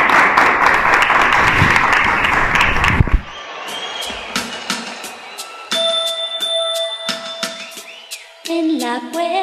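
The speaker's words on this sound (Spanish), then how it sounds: "Un fuerte aplauso y nos vemos en la iglesia." A crowd at a New Year's Eve gala claps loudly for about three seconds, then the applause cuts off and gives way to sparse bell-like chimes and tones with scattered sharp hits.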